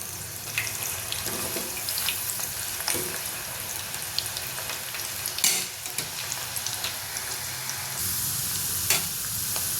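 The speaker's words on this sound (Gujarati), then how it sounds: "હવે આપણે ગાજરને તળી લઈશું।" Carrots bubbling in hot oil make a continuous crackling sizzle, joined by brief stirring scrapes and sharp pops, moderately quiet and close up with no voices.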